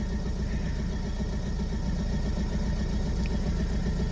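A Ford S-Max engine idles after a head gasket repair with K-Seal, giving a steady, even low rumble with no revving, heard close and alone.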